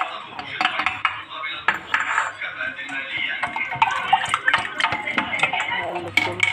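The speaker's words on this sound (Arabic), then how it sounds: "ودول بيضتين أقلبهم كده مع بعض، وبعدين أقدمها على اللبن" Two eggs are beaten together with milk in a metal pan for a phyllo (galash) dish, making quick, continuous clinking and scraping of utensil against metal up close.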